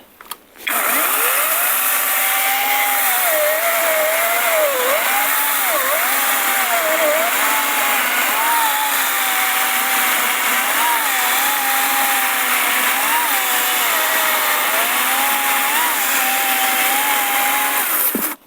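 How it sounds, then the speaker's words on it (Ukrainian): A battery chainsaw runs at first speed, starting abruptly and holding a loud, continuous high-pitched whine with slight pitch wavers for about eighteen seconds before cutting off, no voices present. "все рівно на першій швидкості відчувається більше обертів цієї пилочки"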